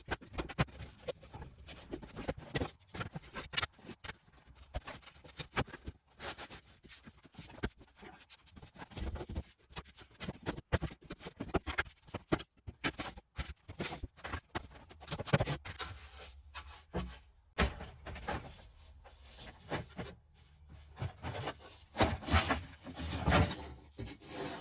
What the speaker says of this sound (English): Pull my floor apart. I numbered all my planks so I know what order they go back